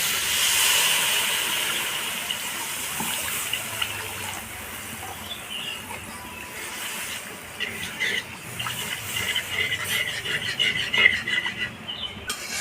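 Water poured into a pan of frying masala, giving a steady, moderately quiet hiss of sizzling and steaming that carries on throughout with slight surges.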